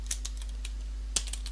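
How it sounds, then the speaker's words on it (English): A command is typed on a computer keyboard as a handful of light, close key clicks, a quick run followed by a gap and a second brief cluster, over a steady low hum. "go ahead and type in VG create"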